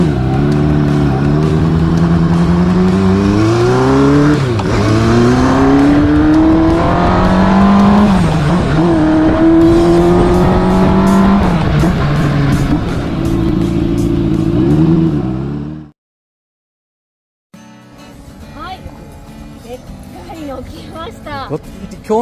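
Kawasaki Z400FX vintage motorcycle engine revs loudly up and down in rising and falling sweeps, close by, with people talking over it, then cuts out briefly before quieter engine sounds and talk resume.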